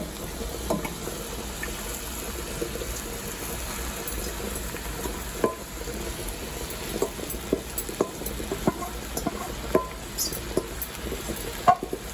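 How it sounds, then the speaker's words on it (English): Chopped callaloo greens stirred in a pan for a Jamaican breakfast, giving a steady low sizzle with scattered soft clicks and scrapes of stirring, fairly close and continuous, no voices. "So I'm gonna add the callaloo."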